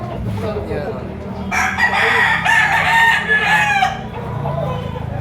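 Roosters crow at a livestock auction market in Lipa, Batangas, with one loud, close crow standing out over a busy background of clucking fowl and crowd murmur.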